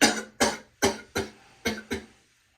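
Six dry coughs in an even series, close and fairly loud, each ending abruptly with quiet between them.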